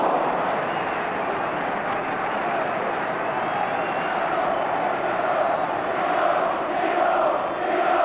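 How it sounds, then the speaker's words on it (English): A football crowd at a Liverpool v FC Tyrol UEFA Cup match keeps up a loud, continuous chant and roar, dense and steady throughout without a break. "Crowd chanting there."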